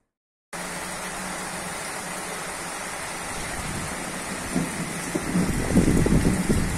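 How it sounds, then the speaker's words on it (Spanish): Steady rain of an August evening electrical storm in Mexicali, Mexico, a broad continuous hiss growing heavier toward the end with low rumbling bursts that suggest distant thunder. "Tormenta iniciada el último día de agosto, 31 de agosto, en la ciudad de Mexicali."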